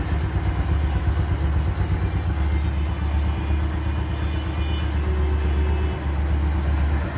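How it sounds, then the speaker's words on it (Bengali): A 2021 Bajaj Platina Comfortec 100cc motorcycle idles close by, a steady low thrumming putter that runs unbroken and alone, with no voices. "দেখুন ইঞ্জিনের সাউন্ড"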